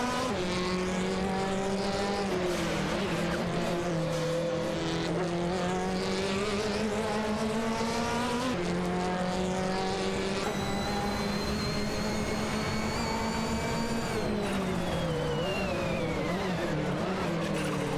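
Race cars including a Porsche 718 and a Maserati GranTurismo roar through a racing video game, engines whining up and down through gear shifts in a loud continuous stream with no talk.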